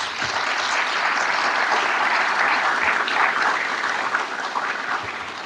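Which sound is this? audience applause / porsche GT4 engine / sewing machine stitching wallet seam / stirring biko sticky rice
audience applause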